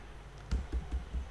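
Keys click softly on a computer keyboard as a command is typed into a terminal, a handful of light taps spaced unevenly over a second.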